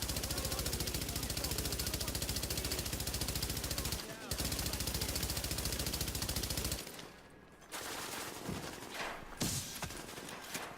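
Sustained MG5 light machine gun fire in The Division, a dense rapid automatic rattle running loud and continuous, briefly cut off once, then dropping to scattered shots and bursts amid general battle noise.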